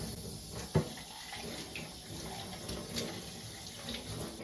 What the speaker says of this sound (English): So just a little bit of warm water, and we'll just give it a rinse out.